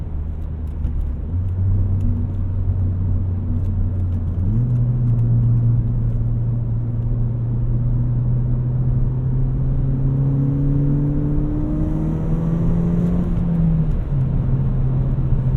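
A 240hp Ford Fiesta ST hatchback engine with 240,000 miles revs steadily upward under acceleration, a loud continuous rising drone with a brief shift step, close and alone with no voices.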